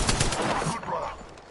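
Rapid gunfire in the video game Apex Legends: a dense, loud burst of quick shots that fades into a softer rattling tail, with a voice faintly present.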